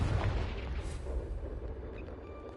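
A Confringo fire spell blasts in Hogwarts Legacy, giving a loud, rumbling burst at the start that fades into a lingering roar and crackle, with no voices.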